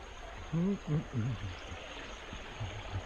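Penasquitos River flowing beneath a small bridge in a nature preserve, a steady broadband rush of moving water running throughout, with someone briefly talking over it partway through.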